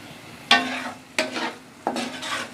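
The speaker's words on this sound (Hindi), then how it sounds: "इसको फ्राई करेंगे थोड़ी देर, ज़्यादा नहीं इसको फ्राई करना।" White onion fries in a pan of hot oil, making a low sizzle. Three distinct scraping stirs of a utensil against the pan stand out, spaced roughly evenly and close by.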